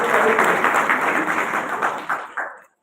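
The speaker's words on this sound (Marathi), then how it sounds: "टाळ्या पाहिजे" An audience at a gram panchayat workers' gathering in Tambava, Kej taluka applauds steadily and close, then the clapping thins into a few scattered claps and stops abruptly.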